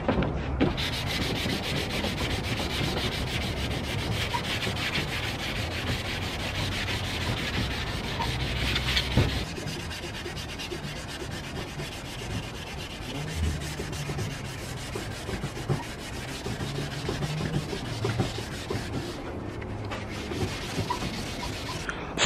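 Steady sanding rubs away paint on a car's rear bumper, a continuous dry scratchy friction that stays loud and close throughout, easing slightly partway through without pause.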